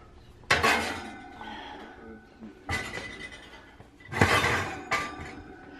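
A pan of halved spaghetti squash goes into a home kitchen oven, with three loud clattering bursts of metal pan and oven rack separated by quieter rattles.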